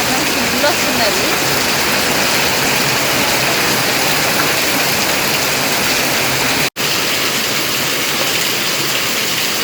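Heavy rain pours down steadily in a village, a dense, even hiss that holds through the whole clip with only a brief drop near the end.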